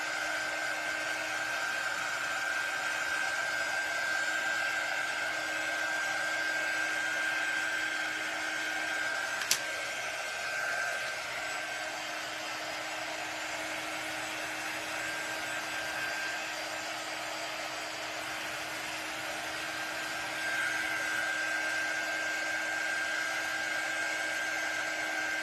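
Hair dryer drying watered-down paint on a shadow box, a continuous airy whoosh with a steady high motor whine, close and even throughout, with one brief click partway through.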